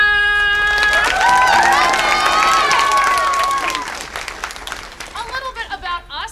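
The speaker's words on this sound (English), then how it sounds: "Let's give them all a round of applause." Audience applause and cheering at a children's theater production of Snow White, loud and sustained at first with a children's sung melody over it, then thinning into scattered claps and voices toward the end.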